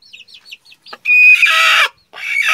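An angry hen on her nest while laying an egg gives a few short clucks, then loud, drawn-out squawks very close by.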